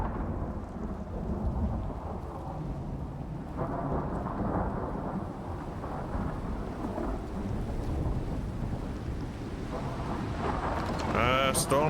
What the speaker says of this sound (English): Storm is so noisy.